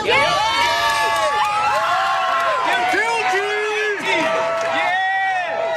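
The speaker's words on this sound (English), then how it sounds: "cheers could be heard in the crowd as news of Trump's conviction spread" A crowd outside a courthouse cheers and shouts on hearing of Donald Trump's conviction, a tangle of overlapping raised voices rising and falling, close and steady.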